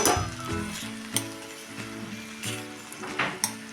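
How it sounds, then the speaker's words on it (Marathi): Karadai (safflower) greens and moong dal being stirred in a pan, with steady close sizzling and a few sharp clinks of the spoon against the metal. "मुगाची डाळ टाकून आपण एकसारखा हलवून घेऊया"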